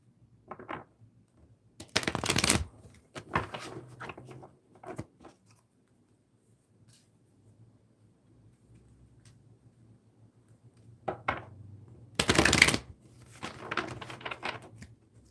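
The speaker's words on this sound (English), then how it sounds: "Let's do one more shuffle here" Tarot cards are shuffled in a few short bursts of crisp riffling and soft slaps, separated by quiet pauses, close and fairly faint.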